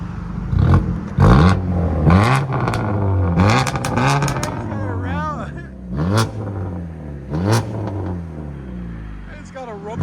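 Straight-pipe exhaust of a Dodge Dart GT rumbling as the engine revs in several rising and falling pulls, loud and close, with someone talking over it.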